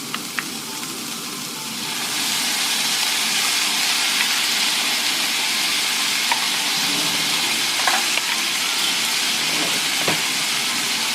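Pork hits a hot pan partway in and a loud, steady sizzle and hiss of stir-frying takes over, with occasional faint clinks of the utensil and no talking.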